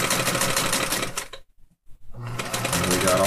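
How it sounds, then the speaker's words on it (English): An industrial-style sewing machine with a feed dog stitches fabric in steady, loud bursts of rapid mechanical clatter, stopping briefly in the middle before running again. "Sewing machine will pull."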